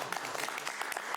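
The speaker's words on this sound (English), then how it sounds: "I think you deserve a clap." Brief applause from attendees at a city council meeting, a soft, dense patter of clapping heard from a distance for about a second.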